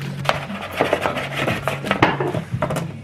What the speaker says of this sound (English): So I'm just cutting up the potatoes at the moment.